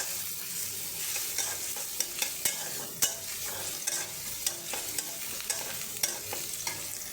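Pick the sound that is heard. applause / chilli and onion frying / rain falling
chilli and onion frying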